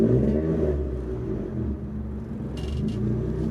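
A supercharged Honda EF Civic engine idles steadily up close, a low continuous rumble with even pulsing, and a brief higher whir near the end.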